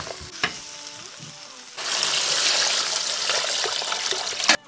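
Sheep offal sizzles as it is stir-fried in a pot, then water pours in and sets off a louder, rushing hiss that lasts to the end, close up, with a few scrapes at the start and finish.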